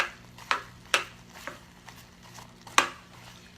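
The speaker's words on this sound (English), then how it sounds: "Mix it up." Popcorn being mixed into a hot bubbling mixture in a pot during snack preparation, giving light scattered clinks and soft rustling taps spread over a few seconds, fairly quiet, with no talking.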